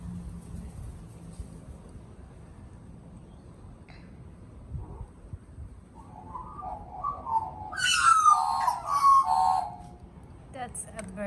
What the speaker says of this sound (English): That's a bird magpie. It's called magpie bird.